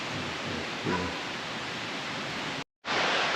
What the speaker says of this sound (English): Go check out the river here.